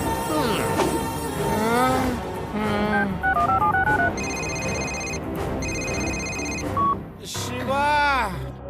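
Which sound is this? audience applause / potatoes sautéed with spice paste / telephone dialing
telephone dialing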